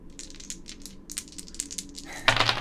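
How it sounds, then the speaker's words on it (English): Dice rolled for the Betrayal at House on the Hill board game, a quick patter of light clattering taps followed by a brief rattling tumble at close range. "Just the sound of him rolling the dice."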